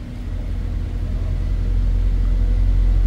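A Mercedes-AMG GT 63 S with a 4.0-litre twin-turbo V8 gives off a deep, steady low rumble that slowly swells in loudness. It sounds close and continuous, with no talking.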